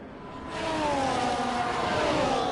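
Ferrari race car engine in a racing game, a droning whine that swells in and holds steady with gliding pitch shifts as it accelerates, fairly close and sustained.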